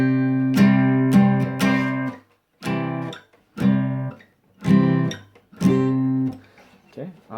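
Guitar strummed in a full C bar chord, about five ringing strums in separate bursts with short gaps, loud and close, with no talking over it.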